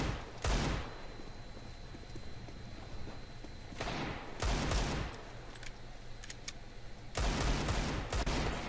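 Gunfire in the video game Counter-Strike: Global Offensive, with a player trying to shoot through a wall. Three loud bursts of rapid shots come close and clear, with short pauses between them.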